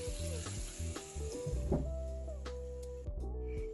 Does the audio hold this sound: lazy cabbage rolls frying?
yes